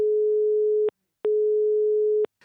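A telephone busy signal sounds after calling a mobile phone that is switched off: two long steady tones separated by a short gap, clean and loud, followed by a faint brief noise at the end.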